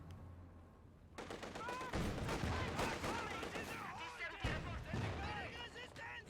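Gunfire and MG42 machine-gun bursts crackle in a Company of Heroes 2 match, dense rapid shots and battle noise building after a quiet start, under fast, continuous commentary from a caster.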